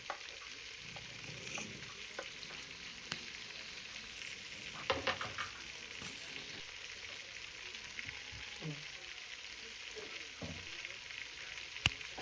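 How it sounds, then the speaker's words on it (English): Onions and garlic frying in a soup pot, a steady faint sizzle with a few scraping stirs and clinks of a utensil, no talking. "These are my onions that I'm adding in, and the garlic just right after."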